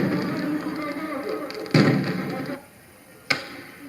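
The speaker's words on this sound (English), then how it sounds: "those rockets that's going over there, yes, they're fireworks" Fireworks rockets fire outdoors, two sharp bangs a second and a half apart cutting through a murmur of background noise and voices.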